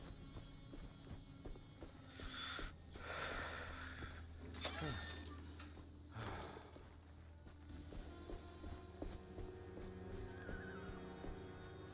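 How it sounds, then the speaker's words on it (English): Faint clip-clop of horse hooves in the video game Alone in the Dark (2024), amid a noisy background hum, with a distant whinny-like call; no speech. "I just heard a horse, I think."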